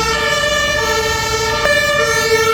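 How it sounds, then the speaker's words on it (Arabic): An ambulance siren wails steadily and loudly near Potsdamer Platz in Berlin, its tone holding through with a brief shift partway and no voices over it. "اسعاف اسعاف اسعاف."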